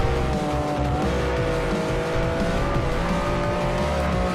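A new Lamborghini in Forza 4 brakes and corners, its engine droning loud and steady while tires squeal continuously through the turn, with no talk.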